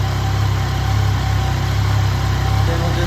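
A 2015 Yamaha FJ-09 motorcycle engine idles slightly high while warming up after a fuel problem, a steady, even low rumble with a fast regular pulse, loud and close, with no voices.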